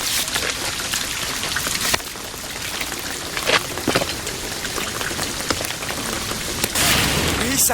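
Heavy rain pours steadily in Shadow of the Tomb Raider, a dense continuous hiss of drops on surfaces with brief louder splashes, filling the scene with no talk over it.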